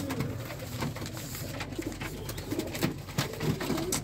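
Pigeons coo repeatedly in soft, rolling calls against a steady background hum, with several overlapping birds close by.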